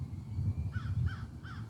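Three hoarse crow caws in quick succession outdoors, moderately distant, standing out over a steady low background hum with no talking.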